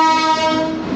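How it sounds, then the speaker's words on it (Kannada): A WAP-7 electric locomotive on shunting duty with a train coach at a railway station, sounding a loud, sustained horn tone up close for about a second. "WAP-7 ಶಂಟಿಂಗ್ ಡ್ಯೂಟಿ ಮಾಡ್ತದೆ ಇವತ್ತು."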